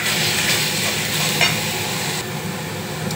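A pan of chana masala with red chilli powder is stirred. A loud, dense sizzle runs throughout with scraping stir strokes, and a brief louder scrape comes midway.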